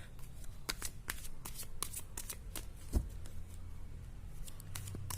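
A tarot card deck is shuffled by hand, giving a quick run of crisp riffling card flicks with one sharper snap near the middle, close and fairly quiet with no talking.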